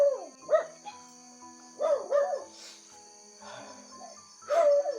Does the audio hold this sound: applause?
no